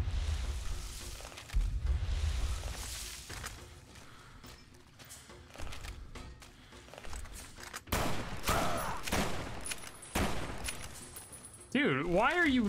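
Gunfire from a gun in Fallout: New Vegas: repeated bursts of shots in clusters across the stretch, loud and close, with a warbling game sound near the end.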